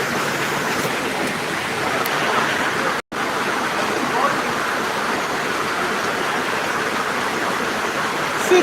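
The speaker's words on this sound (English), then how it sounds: "the rain is too much here" Heavy rain pours steadily in a dense, loud roar with a brief dropout partway through, and no voices are heard.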